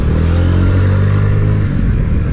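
A Honda Ruckus scooter engine runs loud and close, its steady low drone with a slight rise as the ride begins, with no voices.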